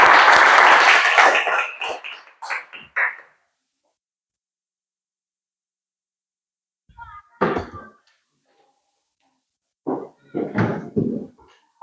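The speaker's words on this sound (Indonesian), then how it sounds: "berikan aplaus dulu untuk kelompok 1" A class of students applauds a presenting group after a school presentation on the human skeletal system, with loud clapping for about three seconds, then quiet, then a few scattered soft claps and thumps.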